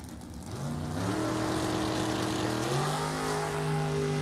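A dragster engine at a drag race revs and climbs in pitch, rising in a few steps while accelerating; it is moderately distant and continuous, with no talk.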